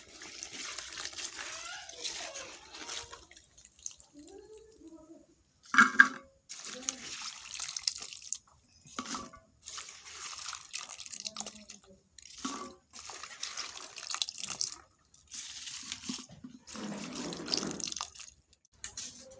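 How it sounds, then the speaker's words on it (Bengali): Cut taro stems being rinsed in water in a kitchen, with a series of splashes, drips and sloshes close by, broken by short pauses and irregular in rhythm. "তো এখন এগুলোকে ধুয়ে পরিষ্কার করে নেব।"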